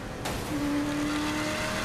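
A car in Saints Row The Third driving on bare rims with a missing tire, giving a loud steady engine drone with a sustained scraping whine that starts abruptly and holds.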